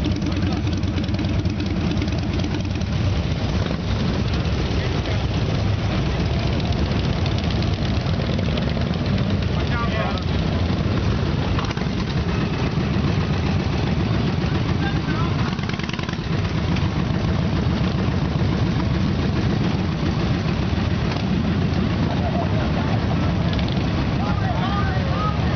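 Motorcycle engines idle and rev steadily at a bikers' rights rally in Harrisburg, a continuous rumbling drone that stays loud throughout, with people talking over it.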